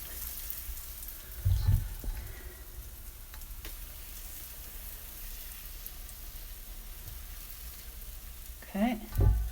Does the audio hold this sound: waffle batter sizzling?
yes